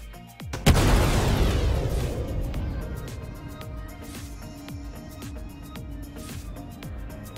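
Size 4 missiles slam into a Sabre ship in a space combat game, one sharp loud blast that rolls into a long decaying rumble, followed by fainter mechanical ticks and hums.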